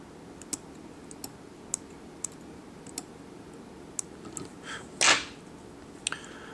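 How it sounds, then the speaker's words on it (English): Small sharp snips from scissors trimming guard hairs on a dry fly being tied, evenly spaced light clicks close by over a quiet room, then a brief rustle near the end. "Then we trim out all the guard hairs here that I wasn't able to manage here, and just cut those out."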